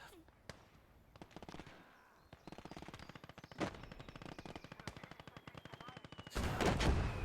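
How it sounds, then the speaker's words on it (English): An MG42 machine gun fires in the Gates of Hell battle game, long rapid bursts of close, hard-edged gunfire with other shots and explosions around it, and a heavier blast at the end. "That is MG42."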